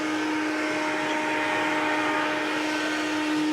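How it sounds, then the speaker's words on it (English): A leaf blower roars steadily at close range, blowing water out of a pool heater while a kayak pool is being closed, a constant, even whooshing drone with a faint whine running through it and no talk. "Lastly, I'm gonna grab my leaf blower."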